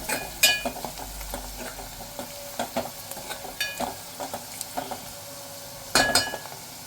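Turmeric and chili powder sautéing in a pan for a Konkani prawn and potato curry, a close sizzle broken by frequent sharp clinks and scrapes of a metal spoon against the pan, strongest near the end.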